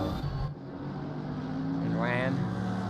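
GT3 race car engine in Assetto Corsa Competizione at Misano, a continuous revving drone that climbs in pitch, heard under a commentator's talk.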